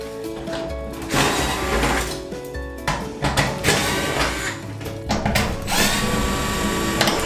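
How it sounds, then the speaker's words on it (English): A DeWalt gyroscopic electric screwdriver runs in loud, steady motor whirring that stops and restarts several times, with mechanical clicking and ratcheting between bursts, close by and without talk. "Gyroscopic screwdriver from DeWalt."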